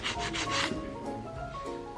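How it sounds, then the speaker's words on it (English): Sanding excess weld off a metal mold used to make plastic tiles, a close, steady abrasive rubbing with rhythmic back-and-forth strokes, heard alone with no voices. "Maybe sanding, maybe just scratching the excess of welding."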